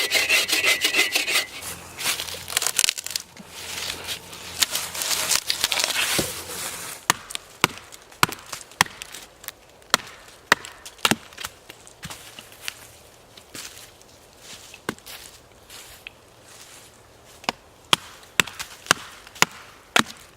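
Firewood is gathered and chopped at a forest campsite in Michigan's Manistee National Forest: a dense rubbing and cracking of wood first, then a string of sharp, irregular chopping knocks, close and alone.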